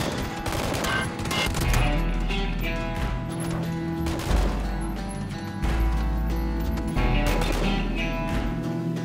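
Rapid gunfire in the video game Battlegrounds (PUBG), with loud bursts of automatic shots and single cracks repeating over several seconds, close and dense, with no voices.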